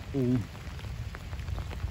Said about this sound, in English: It's raining pretty thoroughly.